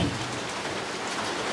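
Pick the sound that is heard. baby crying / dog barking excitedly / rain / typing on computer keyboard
rain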